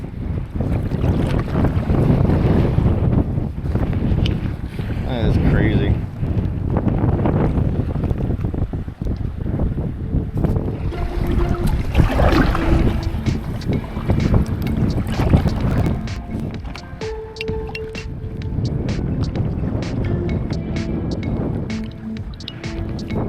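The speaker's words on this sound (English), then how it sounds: "Having the wind at our back for this bend in the river is really nice." Wind blows steadily on a small boat on an Everglades river, a loud continuous rushing buffet on the microphone with occasional water and hull sounds underneath; a person speaks briefly over the noise.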